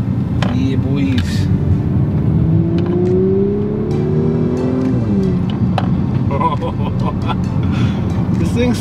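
An Audi car drives along a twisty road with a steady engine hum and rising, falling revs through the bends, heard close from inside the cabin, with light background noises.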